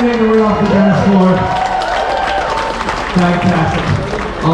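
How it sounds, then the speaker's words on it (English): An audience on a cruise ship dance-floor show claps and cheers in a lively burst under a host's amplified voice and music, the clapping dense at first and then thinning out. "We're giving them a big round of applause"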